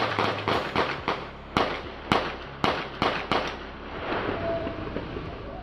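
Gunfire from a street shootout between police and a suspect in Chicago: about eight sharp cracks, some spaced and some in quick pairs, loud but slightly distant with echo, then a rougher noisy tail.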